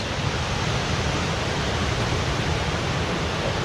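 Rapids and waterfalls on a forest creek in Capitol State Forest, Washington, heard as a loud, steady broadband rush of falling water up close, continuous and unbroken with no voices.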